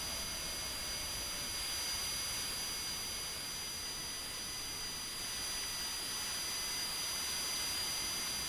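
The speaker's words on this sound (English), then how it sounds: "That's the APU still going." Auxiliary power unit of a Citation Longitude business jet in Microsoft Flight Simulator 2024, parked with engines off, a steady loud turbine whine with a high tonal hum, continuous and unchanging, no talk.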